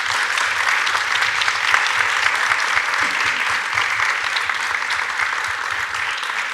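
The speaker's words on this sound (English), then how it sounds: "so now you can applaud them." Sustained applause from an audience at a city candidate debate, many people clapping steadily and evenly throughout, with no speech over it.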